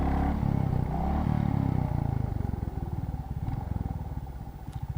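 A Royal Enfield motorcycle engine on a test ride over sandy ground, with a steady low thumping idle that settles into an even, rapid pulsing beat, close and fairly loud with no speech.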